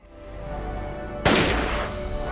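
A gunshot goes off in a movie scene: a sharp, loud blast cuts through a low humming background, then a rumbling decay lingers briefly.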